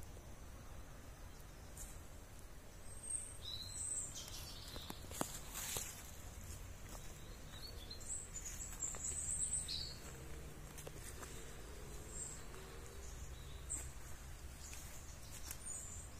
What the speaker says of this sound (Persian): دقت کنید صدای پرنده ها رو.